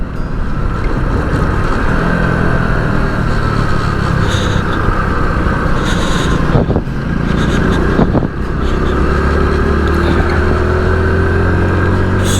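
A Hero Honda Splendor Plus motorcycle rides along after a clutch replacement, its engine droning steadily and loudly with wind rush and a couple of short dips as the rider shifts or eases off.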